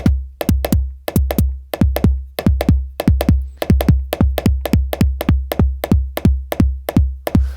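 Nord Drum 3P kick drum hits repeating steadily, about twenty punchy low thumps with sharp clicky attacks and short decays, played alone and loud with no talking.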